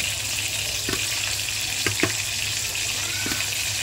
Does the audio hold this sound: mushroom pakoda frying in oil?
yes